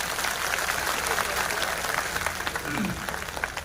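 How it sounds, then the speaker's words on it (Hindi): A large outdoor crowd at a political speech claps steadily and continuously, a dense wash of applause that holds at an even level from start to finish. "एक बार जोरदार ताली बजा करके इस मैदान में आप लोग अपना अपना स्वागत करिए"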